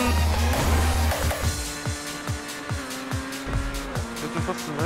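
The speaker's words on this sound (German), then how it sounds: "mein Motor knattert schon hier" Engine of a car in a racing video game, a low rasping drone with repeated sputtering bursts and pitch shifts, loud and steady throughout over other game sounds.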